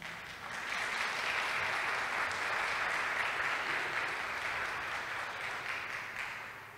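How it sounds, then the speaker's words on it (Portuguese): A church congregation applauds together, a steady dense wash of clapping that swells in quickly, holds at full strength for several seconds, then eases slightly toward the end. "Você pode aplaudir o Senhor?"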